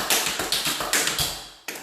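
Tap shoes strike a floor in a quick, crisp run of about eight close metallic taps at a steady rhythm during an intermediate tap class, the final step landing as a heel drop after a short pause.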